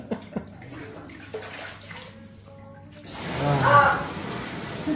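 Hot water gushes from a tap into a bathtub, a steady splashing rush that swells midway, following a stretch of quieter clatter and faint voices.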